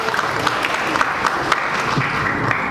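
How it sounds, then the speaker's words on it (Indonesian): An audience at a lively public debate between a pastor and an ustadz claps steadily, a dense even patter of many hands with faint crowd murmur beneath. "Tepuk tangan untuk Pak Pendeta Muriwale"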